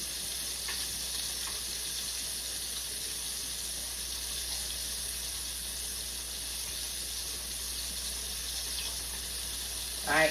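Thin pork chops frying in a cast iron pan, a steady close sizzle that holds evenly throughout, with a brief louder crackle right at the end.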